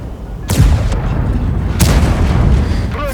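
Two loud, booming tank cannon shots in a video game, about a second apart, each with a rumbling tail, over a constant low engine drone.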